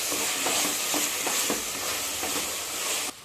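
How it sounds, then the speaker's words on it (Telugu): Ginger garlic paste sizzles and fries in a pan for Andhra village-style coconut rice, with a spoon stirring it. The hiss stays loud and steady, broken by a few soft scraping strokes, then drops off near the end. "పచ్చివాసన పోయే వరకు ఫ్రై చేసుకున్నాం"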